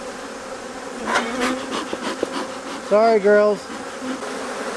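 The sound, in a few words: disturbed honeybees buzzing as hive frame is removed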